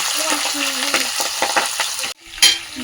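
Fish coated in salt, turmeric and chili powder frying loudly in hot oil, a dense close sizzle with stirring clinks, briefly cut off and then spattering back.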